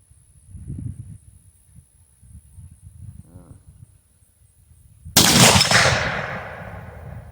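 A single loud 8mm Mauser rifle shot firing a cast bullet at a gopher outdoors, a sharp crack with a long ringing tail, after several seconds of quiet low background rumble.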